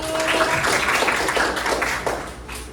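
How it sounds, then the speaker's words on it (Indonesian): Children clap their hands together in a classroom lesson, a loud burst of quick, overlapping claps that thins out and fades toward the end. "Bagus, tepuk tangan sekali lagi."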